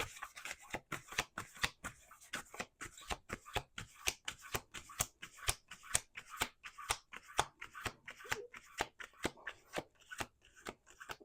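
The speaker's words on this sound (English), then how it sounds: "1 more shuffle." A deck of cards is shuffled over and over, each riffle a crisp, quick burst in a regular rhythm, close and fairly quiet with no talking.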